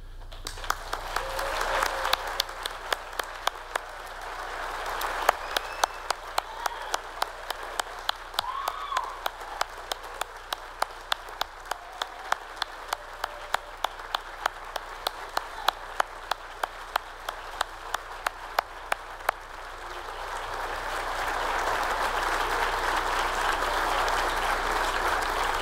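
Steady applause from an audience at an academic award ceremony honouring scholars, sustained and fairly even for over twenty seconds, swelling a little louder toward the end.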